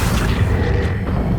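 An Accio spell cast in the video game Hogwarts Legacy gives a loud, dense, low booming whoosh that holds steady for just over a second.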